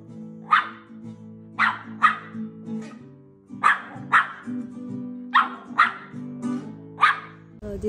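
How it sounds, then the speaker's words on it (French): A Pomeranian dwarf spitz barks in short sharp bursts, mostly pairs of yaps repeated about a dozen times, close and loud, with a steady low hum underneath. "Elle aboie globalement sur des trucs très débiles"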